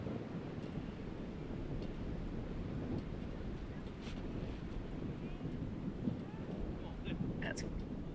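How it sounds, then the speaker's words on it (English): Strong gusty wind rushes across an outdoor disc golf course, a steady broadband roar with microphone buffeting, and faint distant chatter and a few light clinks beneath it. "That wind is ripping right now for our guys."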